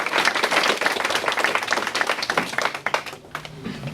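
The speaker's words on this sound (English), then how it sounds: "one round of applause for all the fabulous people" A room full of people at a networking event claps in a lively round of applause that tapers off toward the end.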